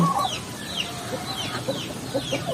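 Broiler chickens cluck softly in a coop, a scatter of short, close clucks and chirps repeating irregularly over low background noise.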